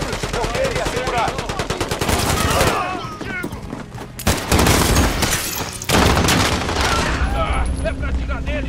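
Dense, loud gunfire from Call of Duty Warzone, rapid automatic bursts and heavy shots rattling almost nonstop with brief lulls, close and harsh, mixed with in-game voice callouts.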